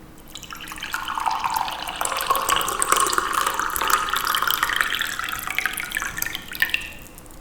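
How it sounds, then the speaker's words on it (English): Water pours steadily into a mug for several seconds, a continuous splashing fill with a gently rising pitch as the mug fills, then it tapers off near the end. "two very short recordings of the same mug being poured water at different temperatures"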